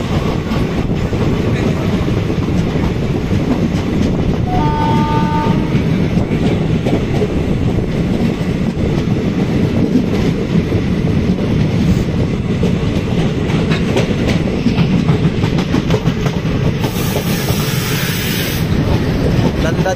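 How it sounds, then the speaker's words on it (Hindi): Nanda Devi Express shunting slowly into Dehradun railway station, wheels clattering steadily and loud throughout, with a brief squeal midway and a hiss of wind near the end. "नंदा देवी एक्सप्रेस ट्रेन की शंटिंग चलती हुई"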